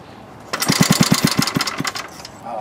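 A small generator engine is pull-started: a quick series of rhythmic chugging compression strokes that sputter for about a second and fail to catch, loud and close, with no talk during the attempt.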